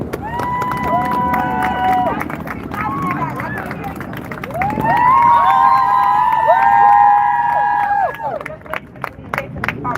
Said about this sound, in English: I just like to give yourselves a round of applause for we made it.